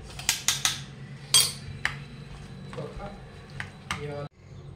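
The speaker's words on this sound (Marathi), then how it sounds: "आता हे सगळं आपल्याला मिक्स करून घ्यायचं आहे" A spoon clinks and scrapes against a pot while yogurt is mixed into mutton for Champaran-style mutton in a clay pot, several sharp metallic taps followed by softer stirring, with a voice speaking over it.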